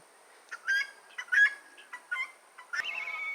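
Guinea fowl and hens calling at a spring homestead, a run of short, sharp squawks and cackles in bursts, fairly close and clear with no talking.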